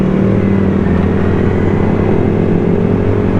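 A 2007 Yamaha R6 sport bike engine roars steadily under acceleration, loud and close with a dense, continuous drone and no voices.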